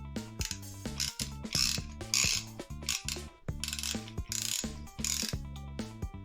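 A wrench ratchets rapidly and rhythmically while loosening a bolt on the rear wing of a Renault 4L, giving loud, close, repeated clicking strokes in bursts with brief pauses between them.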